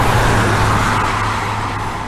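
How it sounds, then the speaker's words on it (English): Steady roar of road traffic with cars and trucks running by close on a street in Calais, Maine, a continuous broadband wash with no voices. "if y'all hear traffic noise, you'll know why"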